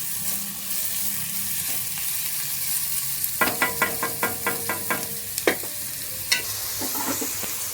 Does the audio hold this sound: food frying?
yes